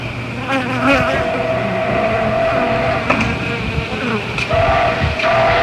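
A swarm of honeybees hums at an opened hive, a dense, steady, close buzzing that fills the whole stretch with no voices.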